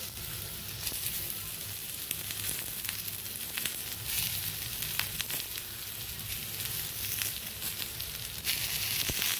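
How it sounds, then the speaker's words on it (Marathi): Onion frying in a pan with ginger and garlic crackles and sizzles softly and steadily, with frequent sharp pops and spits over a low hum, close and fairly quiet, no speech. "मग याच्यात कांदा टाकून घेऊया आपण।"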